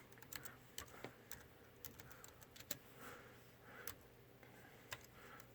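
Soft keystrokes on a computer keyboard come in short, uneven bursts of light clicks with pauses between them. The typing is quiet and close in an otherwise still room.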